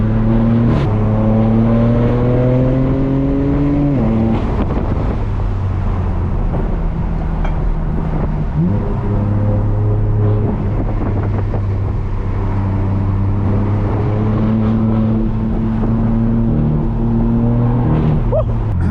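A straight-piped BMW M4 F82 drives fast on mountain roads, its engine droning loud and close as revs climb and drop through several gear changes, with wind buffeting throughout.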